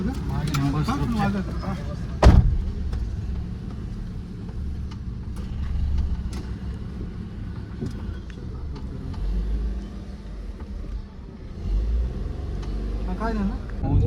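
A car driving home after a Ganpati visit gives a steady low road rumble and engine drone throughout, with occasional bumps and a sharp knock early on, while people talk inside the cabin.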